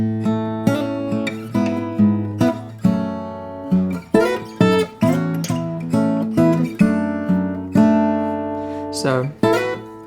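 Solo acoustic-style guitar arrangement of a song, with a melodic fill played over a bass line: plucked notes ring out one after another in a steady, gently rolling rhythm, close and clear with no talking.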